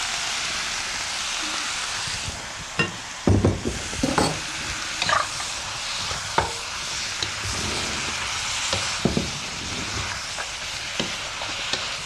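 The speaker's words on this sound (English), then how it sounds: "I'm going to go ahead and add in the baby corn and the shrimp. And then we're going to toss everything all together." Baby corn, shrimp and vegetables stir-frying in a hot wok, a steady loud sizzle throughout with scattered scraping clatters from tossing the food around the pan.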